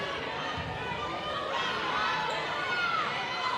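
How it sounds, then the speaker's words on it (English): Basketball gym crowd at a White Swan versus Cle Elum-Roslyn high school game voicing displeasure at a referee call, a steady murmur of grumbling and calls from the stands, with a voice talking over it. "White Swan crowd is not happy."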